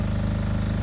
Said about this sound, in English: The noise you hear in the background is from the generator.